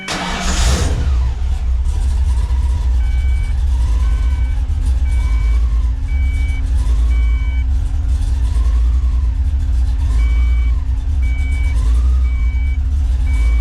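A Ford Foxbody Mustang engine cranks, catches and settles into a loud, steady idle up close, with a faint repeating beep pattern and a wavering whine running over the engine.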